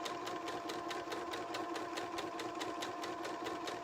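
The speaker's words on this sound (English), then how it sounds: "I'm just going to sew all the way down. Long boring sewing" A sewing machine runs steadily along a long seam on book pillows, its even mechanical whir and regular needle ticks continuing without pause throughout.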